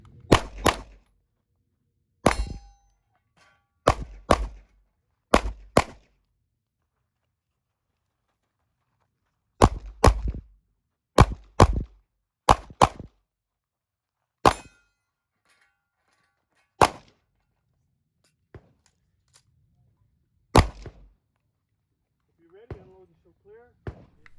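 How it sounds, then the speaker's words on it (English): A Sig M11A1 pistol being fired outdoors, sharp loud single shots and quick pairs with pauses between strings, each crack ringing briefly, plus a few fainter distant shots and a little talk near the end. "This gun is an absolute joy to shoot."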